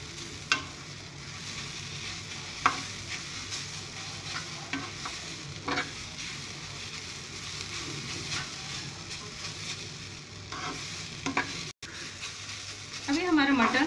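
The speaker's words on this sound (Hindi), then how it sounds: "अभी हमारा मटर भुन चुका है" Green peas roast in a pan as gujiya filling cooks, giving a steady low sizzle with occasional spoon scrapes and stirs, close and moderately loud, with no one speaking.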